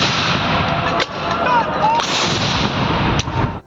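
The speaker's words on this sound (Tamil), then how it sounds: "மற்றும் பீரங்கி பயிற்சிகள் நடைபெற்றன." Artillery booms during a Republic Day military rehearsal in Delhi, heavy rumbling blasts with sharp reports at intervals over a dense, continuous roar of outdoor noise, loud and sustained throughout.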